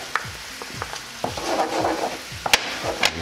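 A spoon stirs a cream sauce with lemon zest in a pan over lowered heat, scraping and tapping in short strokes over a soft sizzle, close and without talk.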